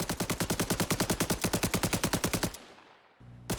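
Gunshots in DayZ, a long, evenly spaced automatic burst of about two dozen close, loud shots, then a short quiet gap and one more shot.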